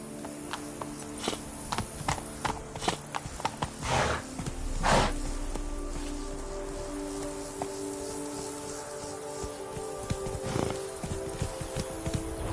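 Roach the horse trotting in The Witcher 3 video game, irregular hoof clops mixed with rustling and a couple of heavier thuds, moderately quiet over a steady ambient background, no speech.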